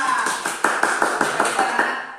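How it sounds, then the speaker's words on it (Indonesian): A class of schoolchildren claps together in a classroom, with a run of sharp, fairly regular claps close by, about ten beats in just over two seconds, over faint room noise. "Tepuk tangan semuanya"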